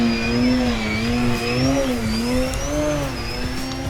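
An E-flite Ultimate 3D RC plane drones steadily as it flies a rolling Harrier pass, its whining motor tone wavering up and down in pitch and staying loud and close throughout.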